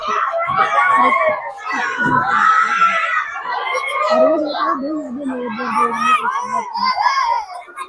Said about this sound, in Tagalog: maingay yung mga bata dito